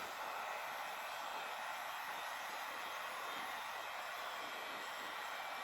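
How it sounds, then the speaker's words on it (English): A hair dryer blows steadily and up close, a continuous airy hiss, while it melts wax into tincloth pants. "Hair dryer works just as fine."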